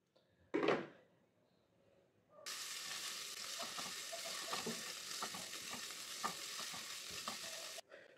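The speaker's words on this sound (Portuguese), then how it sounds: "Vou colocar aqui, ó, gente, pra fritar aqui esses bacon, essa quantidade aqui." Chopped bacon, about 100 to 150 grams, hits a hot pan after a single thump, then a loud, even sizzle runs for several seconds before cutting off abruptly.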